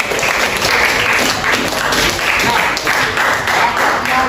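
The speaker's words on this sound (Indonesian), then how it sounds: "tepuk tangan dulu untuk kita semua" Students in a chemistry class applaud together, a dense, steady clapping that fills the room and holds without a break to the end.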